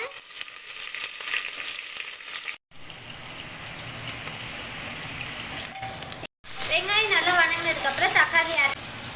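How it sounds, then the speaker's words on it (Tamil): Onions fry in hot oil for a Tamil-style dish, making a steady crackling sizzle that breaks off briefly twice. Louder bubbling hisses come in near the end. "இப்போ நல்லா காஞ்சதுக்கப்புறம் வெங்காயம் ஆட் பண்ணிக்கோங்க"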